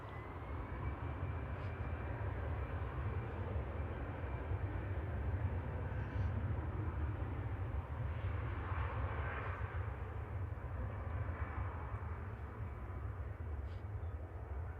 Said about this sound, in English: Just looking at the EasyJet departing to the Isle of Man